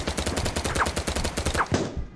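Rapid automatic gunfire in BattleBit Remastered, a loud continuous burst of evenly spaced shots for about two seconds, with a couple of sharper impacts mixed in and no talk.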